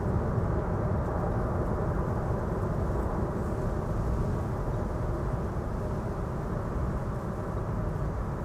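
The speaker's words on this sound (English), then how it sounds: "And the reverser's quite clearly audible." Landing airliner's thrust reverser roaring at Amsterdam Schiphol Airport, a broad, steady low rumble held throughout, loud and unbroken, with no voices.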